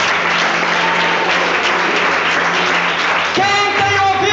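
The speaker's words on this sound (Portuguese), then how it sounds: "Palmas para Jesus!" A church congregation bursts into loud, sustained applause that fills the room continuously, and a tonal music or voice line rises over the clapping in the last second.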